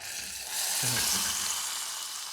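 A hot mixture is dumped into boiled lentils for Indian dal and bursts into a loud, close sizzle about half a second in, then settles into a steady frying hiss.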